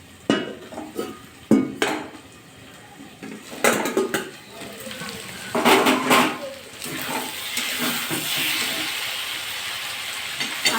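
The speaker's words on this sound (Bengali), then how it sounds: "দুবার নাড়া দিয়ে নিয়েছিলাম" Utensil scraping and clanking against a pan while bottle gourd greens are stirred, several irregular scrapes and knocks up close with a steady sizzle building underneath.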